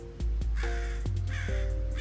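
Crows caw loudly in repeated sharp calls over a steady low rumble outdoors on a calm spring morning, several harsh caws spaced across a couple of seconds.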